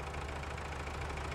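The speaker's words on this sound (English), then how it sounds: "When his tank was filled, Diesel's engine whirred and purred perfectly." A diesel engine from Thomas & Friends whirs and purrs at a steady idle, a soft, continuous low rumble heard alone.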